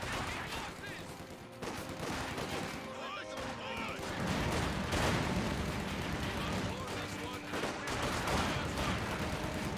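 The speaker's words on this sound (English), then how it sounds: "Rapid grenade firing that may be successful." Battle din in Company of Heroes 2 with rapid grenade fire, dense gunfire and booming explosions, continuous and fairly loud, with a voice talking over it.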